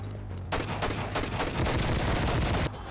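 Rapid submachine gun fire in the video game Enter the Matrix bursts in suddenly and rattles loud and close for about two seconds before cutting off.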